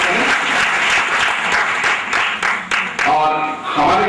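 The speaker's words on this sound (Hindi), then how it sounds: "आप उनके लिए भी जोरदार तालियों से स्वागत करें।" A crowd at an honouring ceremony gives loud, sustained applause that fills the whole stretch, dense and close, with a few brief dips before the clapping swells again.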